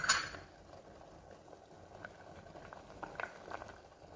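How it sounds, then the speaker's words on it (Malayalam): Butterfly pea flowers, hibiscus and curry leaves boiling in a pot of water, soft bubbling and small popping sounds, quiet and close, with a brief clink at the start. "ശംഖുപുഷ്പവും ചെമ്പരത്തിയും കറിവേപ്പിലയൊക്കെ നല്ലപോലെ തന്നെ തിളച്ച് വന്നിട്ടുണ്ട്"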